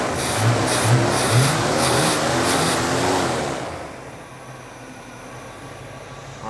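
A carbureted 1968 Pontiac Firebird that sat undriven for 40 years roars through several loud revs nearby, then settles to a quieter, low rumble.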